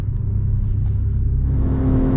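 A BMW M2 Competition pulls hard on a race track, its engine note steady and loud across two seconds as the car accelerates up through the gears, a continuous rumbling drone with no talk.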